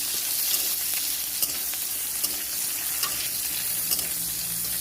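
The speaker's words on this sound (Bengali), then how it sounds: "গাইস আমি পেঁয়াজ দিয়ে দিলাম আর শুটকি দিয়ে দিলাম" Onion and dried fish fry together in a pan with a steady, close sizzle, broken by a few soft clicks of stirring; no one speaks.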